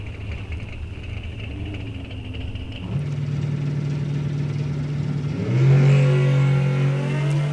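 A 1996 Kawasaki ZX6 motorcycle at a drag race idles, then builds to a loud, steady high-revving drone that jumps up in pitch as it launches, heard amid open track ambience.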